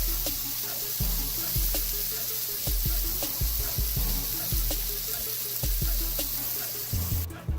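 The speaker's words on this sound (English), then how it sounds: "So now we're gonna put our grilled cheese right on the grill. Ooh, hear that sizzle." A grilled cheese sandwich sizzles on a grill with a steady, loud, crackling hiss, and duller knocks and thumps recur throughout without any talking.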